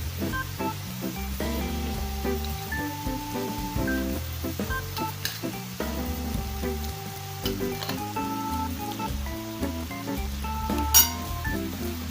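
Tomatoes from a glass jar tip into minced meat frying in a pan, with a steady sizzle, scraping stirring and a few light glass clinks, all fairly close and continuous.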